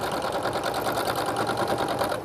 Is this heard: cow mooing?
no